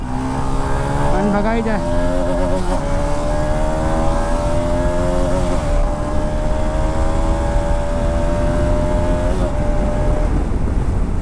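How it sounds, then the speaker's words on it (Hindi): A Bajaj Pulsar RS200 with its stock exhaust revs hard at high RPM, a loud, sustained engine note that climbs and shifts while riding, with someone speaking briefly over it. "इस बाइक का जो स्टॉक एग्जॉस्ट नोट है वो काफ़ी ज़्यादा अमेजिंग लगता है मुझे"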